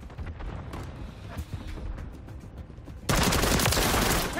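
Gunfire in the Call of Duty Modern Warfare 3 multiplayer mode, with rapid bursts of shots crackling over background battle noise, then a loud, dense barrage of automatic fire erupting close by.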